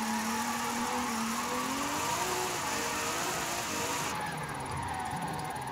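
The new Nissan Z in Forza Horizon 5 accelerates under partial throttle, its engine tone rising smoothly and steadily then easing off, a constant close drone with a high whine over it.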